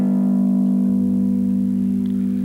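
A single sustained chord rings out on a bass, low and loud, holding steadily without voices.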